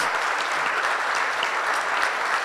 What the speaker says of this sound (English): one more round of applause to the amazing volunteers who have been here all day, working away.